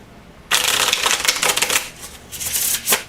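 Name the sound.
shuffling a deck of playing cards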